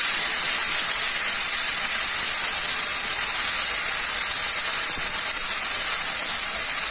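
Marinated meat sizzles in a hot pan with a steady, loud, close hiss that holds evenly all the way through, with no voices.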